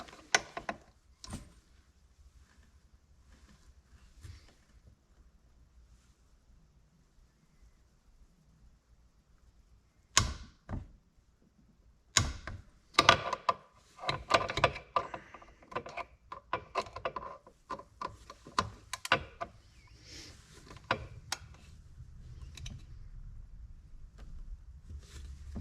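Final torquing of engine bolts with a torque wrench during engine assembly on a Cub Cadet RZT17 mower rebuild: scattered sharp metallic clicks and ratcheting bursts, quiet at first, then a cluster of rapid clicks and rattles, close up in a quiet workshop.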